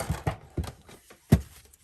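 A few sharp scraping scores on paper card for a pop-up card, separate strokes with short gaps, close up and fairly quiet, with no voices.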